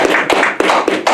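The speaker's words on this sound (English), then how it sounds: "All right, give me a round of applause." Audience applause at a live show, a short burst of clapping with a rhythmic pulse of louder beats over a dense patter of hands.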